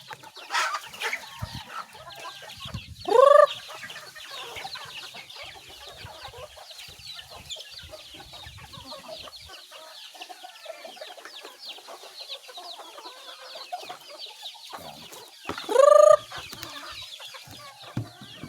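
Hens cluck and scratch quietly at close range, broken by two loud drawn-out squawks, one early and one near the end.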